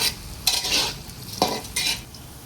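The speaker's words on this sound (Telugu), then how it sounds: "ఉల్లిపాయలు పచ్చిమిర్చి వేగేయండి" Onions and green chillies frying in a pan for a sontem kodi fry, a steady soft sizzle broken by a few scraping stirs of a spoon against the pan, close and alone with no talk.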